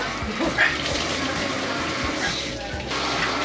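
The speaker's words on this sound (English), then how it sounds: "So their system actually puts soap and water out at the same time." A washing system sprays soap and water together in a steady, close, rushing hiss that runs unbroken throughout, with faint bumps and clatter mixed in.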